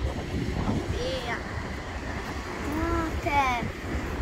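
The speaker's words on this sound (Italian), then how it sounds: "Guardate il mare con le onde, c'è un sacco di vento." Strong seaside wind buffets the microphone with a continuous rough roar, while waves wash faintly beneath and short tonal calls rise through the gusts.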